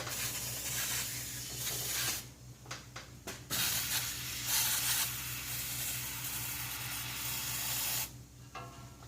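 A steady hissing spray of engine degreaser runs for several seconds, briefly breaking off, then resumes; a close aerosol-like jet in the engine compartment of a 1966 Ford F100, with no talking.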